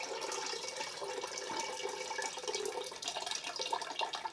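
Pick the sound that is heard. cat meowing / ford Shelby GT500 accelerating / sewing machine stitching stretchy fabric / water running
water running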